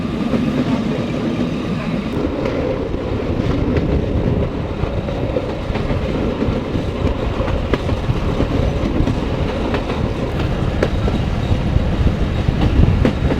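A Commuter Express train running on rails between Rajshahi and Rohonpur, with a steady, loud rumble and rhythmic clickety-clack of the wheels that continues throughout.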